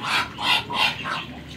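A male Chinese duck calls nearby in four loud, evenly spaced honking bursts about a third of a second apart, with no other voices.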